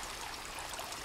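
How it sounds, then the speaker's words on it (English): Steady trickling, flowing stream water while a character drinks from a stream in the survival game Sons of the Forest, a continuous close wash of running water with no talk. "Oh, I'm drinking water."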